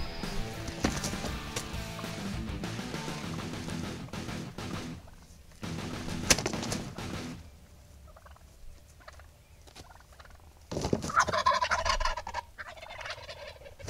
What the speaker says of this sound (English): these two guys show up